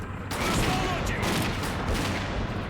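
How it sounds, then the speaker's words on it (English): Shotgun blasts in S.T.A.L.K.E.R. Clear Sky, loud overlapping reports that open sharply and are followed by more bursts amid a busy firefight, with some voice underneath. "these shotguns do not do good at long range"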